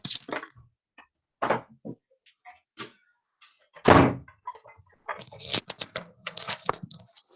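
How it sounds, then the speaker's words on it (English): A household door is pushed shut, giving one solid thunk near the middle, surrounded by brief scattered rustles and handling noises in a quiet room. "I'm just going to shut my door."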